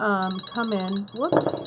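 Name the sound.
mobile phone ringing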